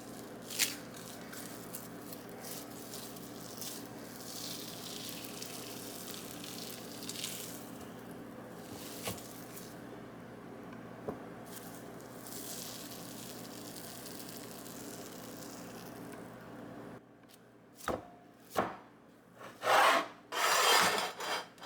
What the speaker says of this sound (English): If you can make it past the fact that this is meat, then it's actually pretty fun to mix this all together and just really mash it all with your hands